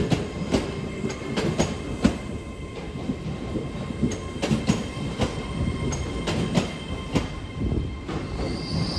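An LNER Class 800 train runs through Newcastle on a diversion, with wheels clicking over rail joints in a steady rhythm and a high squeal creeping in near the end, close and continuous.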